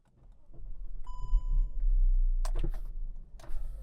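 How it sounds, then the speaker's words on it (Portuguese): A Volkswagen Touareg is started from inside: a short chime, then a low engine rumble swells and settles into a quiet idle, broken by a couple of brief clicks and rustles near the end. "Vou ligar o carro aqui para vocês entenderem."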